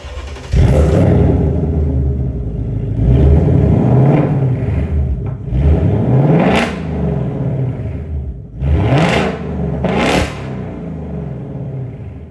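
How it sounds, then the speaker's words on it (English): A 2024 Ford Mustang GT S650 V8 with a Steeda H-pipe resonator delete, loud and close, rumbling at idle then revving repeatedly in rising sweeps, with several sharp throttle blips near the end. "It does have a Steeda H-pipe resonator delete, which sounds amazing."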